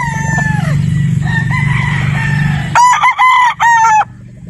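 A gamefowl stag crows loudly and close by, one drawn-out cock-a-doodle-doo with a few rising and falling segments near the end, after a few seconds of softer clucking over a low background hum.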